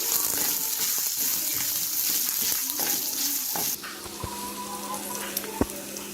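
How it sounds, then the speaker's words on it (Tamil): Onions sizzle and crackle steadily in a hot pan, with a few clinks of a spoon stirring, the hiss easing a little toward the end. "இவ்வளோத்தையும் போட்டு கொஞ்சம் லைட்டாக வதக்கிடுவோம்"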